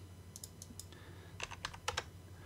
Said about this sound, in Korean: 45 입력하고 엔터 클릭.